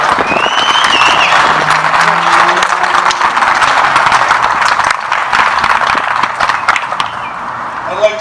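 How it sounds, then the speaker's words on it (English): Crowd applause for military veterans at an outdoor Rolling Thunder memorial ride event, a steady clapping roar with a voice briefly audible and a fading tail at the end. "give them a round of applause for these men and women"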